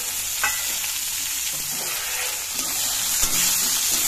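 Garlic, ginger and bay leaf fry in oil in a pan with a constant hissing sizzle and occasional soft stirring taps, close and steady, and no one speaks.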